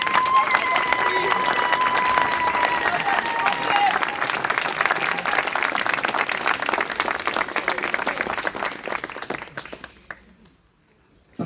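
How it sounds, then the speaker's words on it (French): Audience at a memorial ceremony applauding steadily, with a constant wash of clapping and some voices mixed in. The sound carries on for about ten seconds before fading out near the end. "je vais demander à tout le monde de les applaudir si vous voulez bien"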